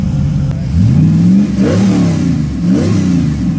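Car engine revving hard at a car meet in Subic, several loud rising bursts of throttle that climb in pitch and fall back, close to the listener and alone without talk.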